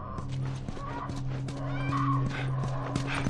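A horse in the video game The Last of Us, with steady clip-clop hoof impacts and snorting over a continuous low game-ambience hum, fairly close and moderately loud, with no talk.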